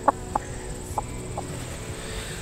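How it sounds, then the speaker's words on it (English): Chickens let out four short, sharp clucks that fade over a couple of seconds, close by against a quiet background hum. "It's my chickens."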